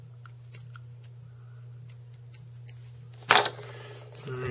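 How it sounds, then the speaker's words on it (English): Small scissors snip antron fibers on a LaFontaine emergent pupa trout dry fly, giving a few faint, sparse clicks over a steady low hum before one sharper, louder cut near the end. "And I'll trim off the antron."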